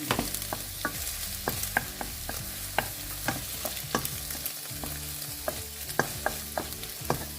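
Shrimp and egg stir-frying in a pan for shrimp fried rice with chili sauce give a continuous sizzle, punctuated by regular sharp scrapes and taps of the spatula, close and fairly loud.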